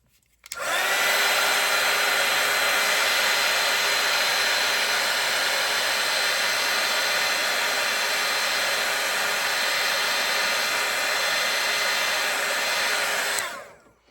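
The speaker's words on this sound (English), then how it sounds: "And I am going to dry this." A hair dryer blows on wet paint with a loud, steady roar that runs unbroken for about thirteen seconds. Its whooshing hum starts and stops abruptly, and no one speaks over it.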